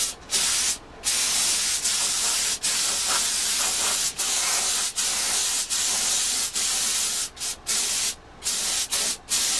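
Sand sealer is sprayed from a spray gun onto a custom Firebird-style guitar body in a workshop, a loud, continuous hiss broken by short pauses between passes.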